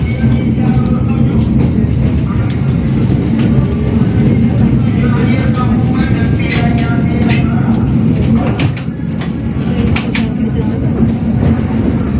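KA Dharmawangsa train pulls out of Bekasi station, a loud low rumble of engine and wheels on rails rolling steadily, with scattered clanks and squeals riding over the continuous drone.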